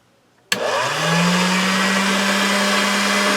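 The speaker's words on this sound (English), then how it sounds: "I'm just going to take a piece of it and run it through my pasta machine." A motorized pasta machine switches on to roll polymer clay, an abrupt start followed by a steady whining motor hum that rises slightly in pitch and holds, close by.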